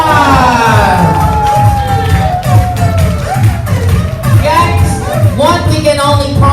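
A crowd at a 70th birthday celebration cheers and whoops loudly, with shouting voices overlapping amid music or a steady rhythmic background, sustained across the whole stretch.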